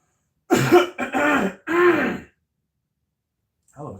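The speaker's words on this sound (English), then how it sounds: "Hell of a cough." A person coughs and clears their throat in a few harsh, close bursts over about two seconds, followed by quiet and a faint trailing breath.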